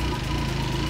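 An AKT touring motorcycle engine runs at a steady idle close by, giving a continuous even rumble with a regular low pulse and no voices over it.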